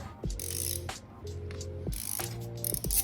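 A ratchet wrench turns on a motorcycle part, giving three quick bursts of crisp mechanical clicking with short pauses between them, close and clear with no talk.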